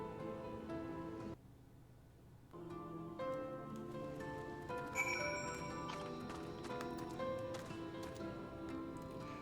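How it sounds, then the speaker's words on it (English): Hooves of a goat mount clop at a steady trot in the video game Final Fantasy XIV. The clopping runs over layered musical tones and chimes from the game, with no voices. "That's a funky goat, Milena"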